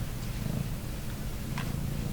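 A cat purrs close up in a steady, low rumbling drone that continues without a break.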